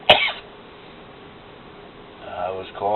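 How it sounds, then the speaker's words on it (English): A single sharp cough at the start, followed by quiet room noise, then a person begins speaking toward the end. "I was coughing long before I did this"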